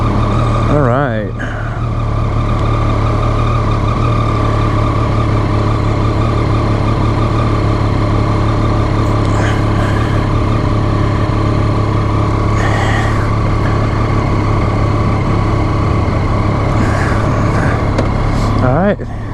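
A 2015 Triumph Daytona sport motorcycle engine runs steadily and loudly from the rider's position, a constant droning tone with small rises in revs and a few brief throttle blips, with occasional wind rumble.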